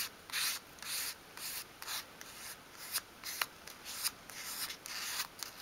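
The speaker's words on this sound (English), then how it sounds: "And just sweep your sandpaper from front to back." Sandpaper is swept over the edge of a small wooden 1/12 scale dolls house sideboard, giving about a dozen short, close, raspy rubbing strokes in an uneven back-and-forth rhythm.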